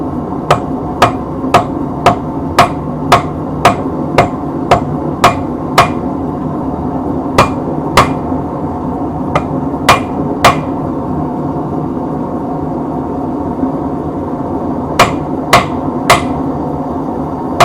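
A hammer strikes a railway spike on an improvised I-beam anvil during knife forging: sharp, ringing metallic blows, a rapid even run of about a dozen, then scattered pairs and pauses, loud and close with no talk.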